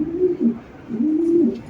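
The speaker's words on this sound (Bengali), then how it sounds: "এই দেখেন একটা মাদি কবুতর মাশাআল্লাহ" A female racing pigeon coos in two close, rolling phrases, each a soft, low throaty warble with a brief pause between them. No one speaks.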